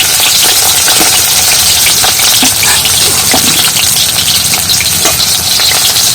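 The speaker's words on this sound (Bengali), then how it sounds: "আর এইভাবে তেলের মধ্যে খানিকক্ষণ ভেজে নেব" Slit pointed gourds sizzling in hot oil, a loud, dense, continuous crackle and hiss close by, with occasional stirring scrapes.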